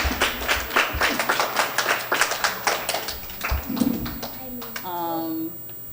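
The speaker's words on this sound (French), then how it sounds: "Applaudissez, applaudissez." A small audience at a children's Christmas dinner claps in quick, uneven bursts, close and fairly loud, with a voice speaking briefly near the end as the clapping fades.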